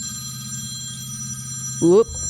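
A telephone rings with a steady, continuous electronic tone, loud and close, until a voice briefly exclaims near the end.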